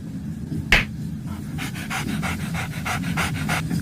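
A dog pants close by in quick, even bursts of breath, after a single sharp click near the start.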